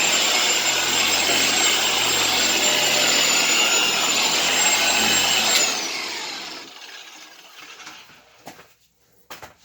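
A Harbor Freight 6-inch random orbital DA polisher spreading polish runs loud with a steady high whine, then spins down after about six seconds, leaving a few faint handling knocks.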